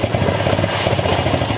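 A Honda CRF 110 dirt bike engine running close by at a steady idle, a loud, continuous throbbing mechanical drone with no talk over it.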